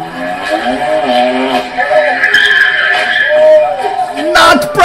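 A BMW M4 revs with rising engine pitch and tyre squeal as its wheels spin, heard over a voice talking throughout, with a burst of noise near the end.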